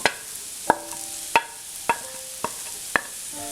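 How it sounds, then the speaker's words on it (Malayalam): A spoon stirs mashed boiled potato into a tender jackfruit cutlet mixture in a metal pan, striking the pan six times at roughly half-second intervals, each knock ringing briefly over quiet background. "ഇനി ഇതിലേക്ക് ഉരുളക്കിഴങ്ങ് വേവിച്ചത്, അത് ഞാൻ ഉടച്ചെടുത്തിട്ടുണ്ട്, അത് ചേർക്കാം"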